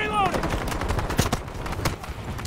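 Rapid bursts of gunfire in the Battlefield 2042 beta crackle continuously, loud and close, with a brief voice at the start.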